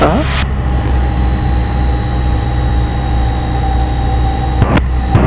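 A light training aircraft's engine throttled back to 1700 RPM in a student pilot's lesson: a loud, steady, close cabin drone with constant propeller hum that runs unbroken throughout.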